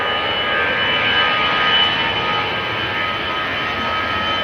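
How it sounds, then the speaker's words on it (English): An EasyJet Airbus A319 jet roars loud and close on departure from Amsterdam Schiphol, a steady broadband engine rush with a high whine holding for several seconds. "EasyJet A319 to Bristol"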